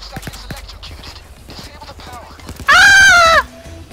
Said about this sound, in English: Oh, I found another goat.